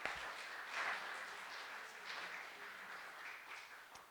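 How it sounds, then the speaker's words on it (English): Audience applause at a community assembly, a steady spread of clapping that holds at a fairly even moderate level for a few seconds and tapers slightly near the end. "Can we get another round of applause for these two?"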